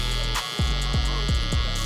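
Electric hair trimmer buzzing close up while balding out the bottom of a haircut, a steady electric hum with a few brief dips and swells as the blades move through the hair.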